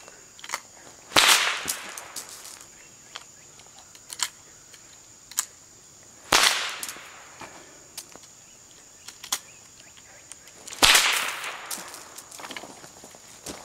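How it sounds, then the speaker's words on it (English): A tapered chain whip fitted with a cracker snaps three times at roughly five-second intervals, each a sharp, loud crack with a quick rattling decay, with faint clinks of chain and footsteps between, no speech. "So we're going to give it a try and see how it cracks."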